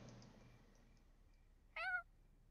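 A single short cat meow from The Sims 4 sounds once, moderately clear, after a quiet stretch with faint background hum.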